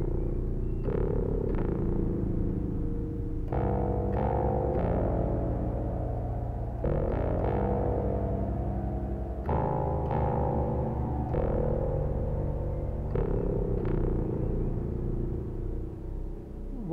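Macbeth M5 semi-modular analog synthesizer playing an FM patch at the bass end of a long keyboard: a sequence of deep, growling, metallic low notes with sharp attacks, steady and loud, with no talk.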